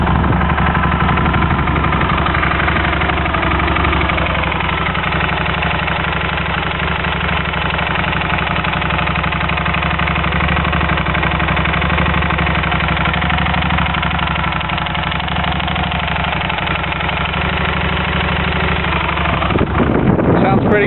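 A Moto Guzzi V11 motorcycle fitted with a Mistral crossover exhaust idles close up, a loud steady throbbing rumble that carries on evenly, with a slight rev near the end.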